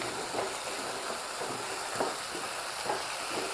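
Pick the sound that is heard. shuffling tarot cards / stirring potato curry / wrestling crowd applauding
stirring potato curry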